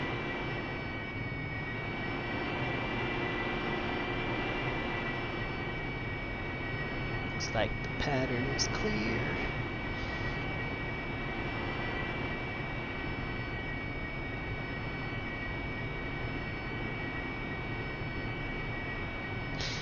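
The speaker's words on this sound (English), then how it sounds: "I'll do a conventional takeoff" A Harrier jet holds a steady loud engine whine and roar ahead of a conventional takeoff, droning continuously throughout while a voice speaks briefly over it.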